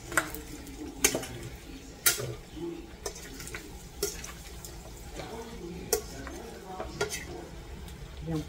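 Butter is stirred in a cooking pan for Bicol Express, a soft simmering sizzle under sharp, regular clinks of a utensil against the pan about once a second, quiet and close.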